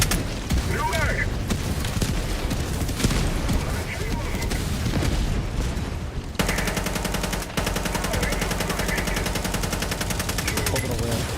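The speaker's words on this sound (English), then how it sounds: "Firing orbital strike." Orbital strike explosions in Helldivers 2 as heavy booming blasts and rattling gunfire in a loud, dense battle mix, with radio-style voices calling out over the din.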